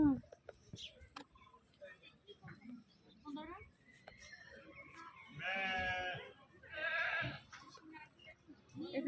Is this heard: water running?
no